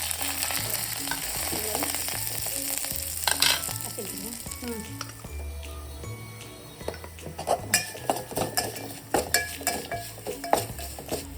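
Mustard seeds, cumin, garlic and chili temper in ghee for a toor and moong dal, sizzling and popping close up while a spoon clinks and scrapes against the pan in irregular bursts.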